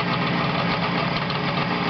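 A motorcycle engine running on a test stand, a steady, dense mechanical drone with a fast, even pulse that holds at a constant level throughout, fairly loud and close, with no talking.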